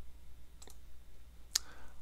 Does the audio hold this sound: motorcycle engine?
no